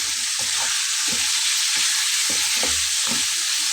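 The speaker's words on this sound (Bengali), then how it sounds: "মশলাগুলো দিয়ে একসঙ্গে কষিয়ে নেব।" Beef pieces being sautéed with spices and salt in a kadai give a loud, continuous sizzling hiss, broken by repeated low scraping strokes of a spatula stirring the pan.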